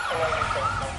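An emergency drill siren wails steadily during a public earthquake preparedness exercise, a continuous rising and falling tone heard at a moderate distance, alone with no talk.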